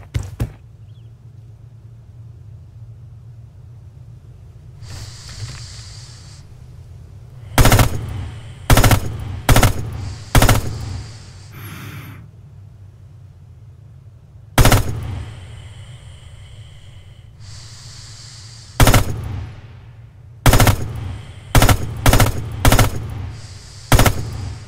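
Rifle fire at a training range in the video game Red Orchestra 2: Heroes of Stalingrad: loud, sharp single shots in irregular bursts, some in quick succession, separated by quiet pauses and the clack of bolt or reload handling.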